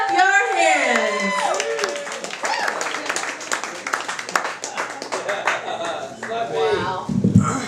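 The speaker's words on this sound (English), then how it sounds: "Clap your hands." An audience at a stand-up comedy show in Asheville claps for an arriving comedian, a dense, continuous patter of many hands heard close, under a loud voice talking over it.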